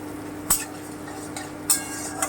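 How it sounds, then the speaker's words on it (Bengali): Garlic paste frying lightly over medium heat, a faint steady sizzle broken by a few sharp spoon taps and scrapes against the pan. "হালকা করে একটু ভেজে নিচ্ছি বাদামি করে"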